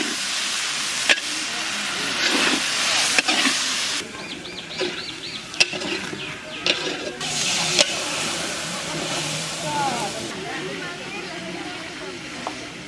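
Cumin paste, dried red chili and turmeric frying in oil in a village kitchen pot, stirred with steady sizzling hiss and intermittent scraping strokes, fairly close and continuous throughout.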